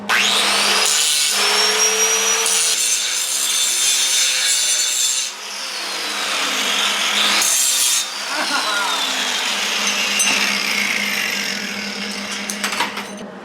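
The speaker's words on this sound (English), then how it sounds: "I'm grinding as well, I want to see how bad I did" An angle grinder working over welds on the body of a 1953 Buick, a loud close metallic whine with scraping grit and slight pitch shifts as the tool bears down, pausing briefly between passes.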